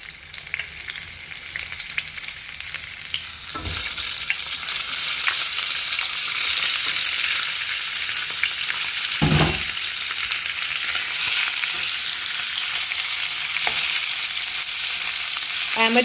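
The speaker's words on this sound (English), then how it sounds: "So to seal the fish, we're going to fry it" Fish for Mauritian vindaye frying in a pan produces a loud, continuous sizzle that swells and stays steady, with a couple of dull knocks as the pieces are moved.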